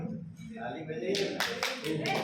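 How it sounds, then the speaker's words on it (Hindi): A school training-session audience claps in short bursts that start partway through and swell near the end, following close talk at the outset. "ताली बजाइए।"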